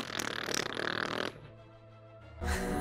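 A voice imitating a fart, a loud buzzing, sputtering blurt lasting over a second, then a quiet pause before another short raspy burst.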